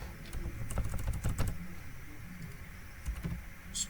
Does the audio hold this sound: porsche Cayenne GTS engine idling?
no